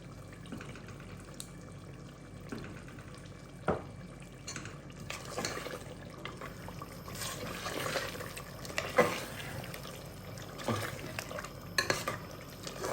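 Mutton stew frying with yogurt while being stirred, quiet scraping of a spoon around the pot with occasional clinks and a soft wet sizzle underneath, faint and close.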